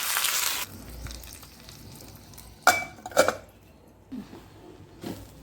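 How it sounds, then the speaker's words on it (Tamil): Mustard seeds, urad dal and curry leaves tempering in hot oil in a pan: a loud opening sizzle that drops to a low crackle, then a few sharp clinks and scrapes of a spoon against the pan, all close and with no talking. "கடுகு உளுத்தம் பருப்பு போட்டு கருவேப்பிலை போட்டுருங்க"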